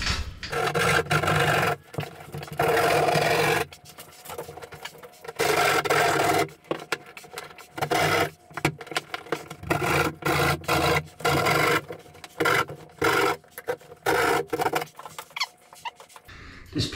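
Plasterboard is scraped and rasped to widen a hole, repeated bursts of rough rubbing and filing, close and loud, separated by short pauses in an irregular stop-start rhythm.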